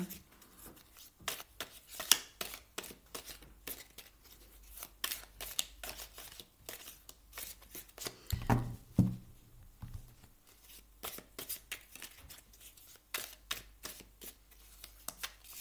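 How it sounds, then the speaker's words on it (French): A deck of tarot cards is shuffled up close, with quick papery riffles and soft slaps repeated in bursts, and a louder cluster of handling noise midway. "Je remélange le jeu pour vous."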